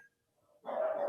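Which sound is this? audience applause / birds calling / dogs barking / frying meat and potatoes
dogs barking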